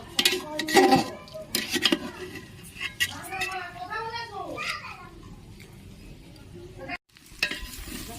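Khichuri ingredients sautéed and stirred in a pot, with scraping and clinking of a spoon against the pot over a light sizzle, in several bursts of activity, with faint background sounds.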